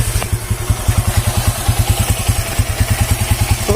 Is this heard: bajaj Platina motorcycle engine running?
yes